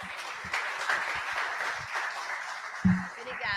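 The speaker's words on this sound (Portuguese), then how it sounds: "uma salva de palmas" Audience applause for speakers at a corporate healthcare event, a steady wash of clapping spread across the room, moderately loud, with a few low thumps and a brief voice near the end.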